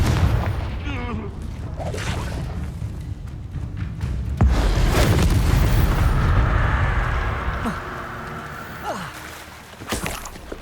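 A Confringo blast spell goes off in a fantasy video game duel, a loud booming explosion with rumbling aftermath and crackling bursts, among other spell effects and a shouted voice.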